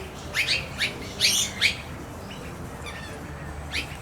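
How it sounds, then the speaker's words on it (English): Several sharp bird chirps and squawks ring out close by in quick bursts, a cluster of five calls early on, then quieter calls and one final chirp, over a soft outdoor background hiss. "These birds never allowed me to come so close to them."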